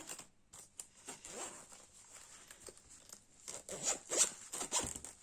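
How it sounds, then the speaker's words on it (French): A fabric zipper on a small two-pocket pouch being pulled open, a run of close, scratchy zipping strokes with a few brighter tugs near the end, nearby and fairly quiet, with no talking. "Alors, elle est composée de 2 poches. Voilà. Avec fermeture éclair."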